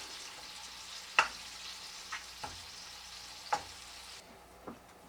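Onions sizzle quietly in a pan for a pork mole, a soft steady frying hiss broken by several sharp scrapes and clinks as they are stirred.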